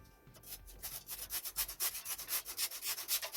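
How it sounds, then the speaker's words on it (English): A regular cheese grater being worked in steady repeated strokes, each pass making a bright scraping rasp, close and fairly loud, with no talking. "to start, just want a regular cheese grater"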